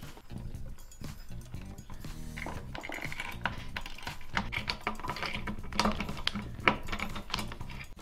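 CPU cooler mounting screws on a Cooler Master 212X being screwed down on an AMD board, faint close-up clicks, ticks and small metallic scrapes in an irregular patter, with no speech.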